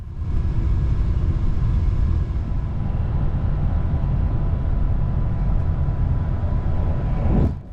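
A steady, loud rumbling roar of a UK intercity train cruising at about 200 km/h between London and Liverpool, with constant wheel and wind noise that fades slightly at the end.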